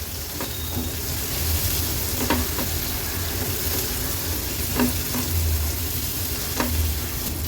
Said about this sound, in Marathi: मिरची अगदी व्यवस्थित आपण परतून घेतली फोडणीमध्ये